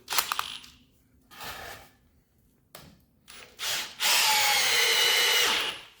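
An Ozito 18V brushless hammer drill drives a large screw into wood in several short whirring bursts, then one long, loud, strained run, close up.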